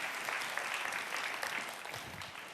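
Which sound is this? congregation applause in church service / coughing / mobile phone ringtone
congregation applause in church service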